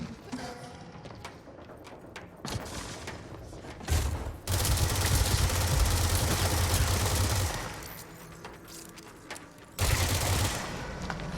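Gunfire in Control's AWE expansion, with scattered shots in the opening seconds and then two loud sustained bursts of rapid fire over a low rumble, separated by a quieter gap.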